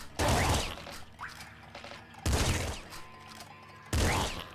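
Three loud, close shotgun blasts from the video game Nuclear Throne, each a heavy boom with a short decaying tail, spaced roughly two seconds apart with quiet game noise between.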